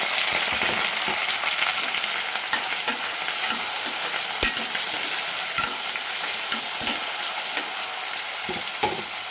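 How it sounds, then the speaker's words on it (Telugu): Sliced onions and green chillies sizzle loudly in peanut oil, a dense close frying hiss punctuated by regular clinks and scrapes of a stirring spoon against the pan, with no speech. "అందులో ఇప్పుడు ఈ ఆనియన్స్ పచ్చిమిర్చి కూడా రోస్ట్ చేస్తున్నాను"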